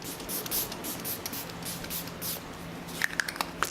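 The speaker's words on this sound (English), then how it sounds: "I am going to get another setting spray." Several quick hissing spritzes of a makeup setting spray bottle, misting close by in short bursts, followed by a few soft clicks.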